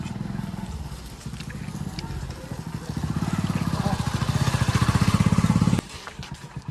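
A close motorcycle engine chugs and revs steadily, its rhythmic putter growing louder before cutting off abruptly. People talk over it.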